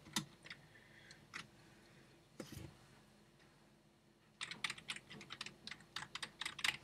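Typing on a computer keyboard while doing homework, heard as sparse, irregular key clicks at first, then a pause, then a quick, dense burst of tapping that is close and moderately loud, with no voices.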